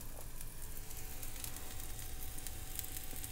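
Ground turmeric, red chili powder and coriander powder sauté in a pan on lowered heat for a shrimp and drumstick curry, giving a soft, steady sizzle that stays faint throughout with no talking.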